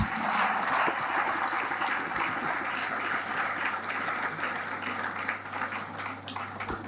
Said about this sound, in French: Est-ce qu'on peut applaudir pour les jeunes qui sont jeunes et dynamiques?